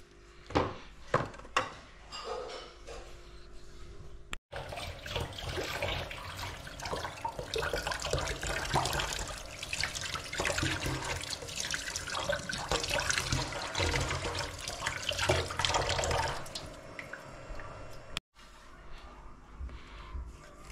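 Tap water pours steadily over the parts of an aquarium canister filter as they are rinsed clean, a close, rushing flow with splashes that goes on for most of the stretch, then cuts off.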